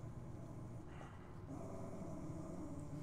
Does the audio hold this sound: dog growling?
yes